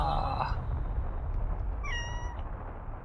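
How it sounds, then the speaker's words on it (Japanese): A cat in the video game No More Heroes gives a couple of meows, one short at the start and a clearer one midway, over a continuous rumbling game backdrop. "猫ちゃん。"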